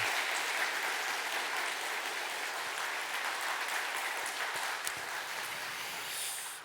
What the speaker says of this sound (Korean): 뒤에 분들까지 바라보면서 우리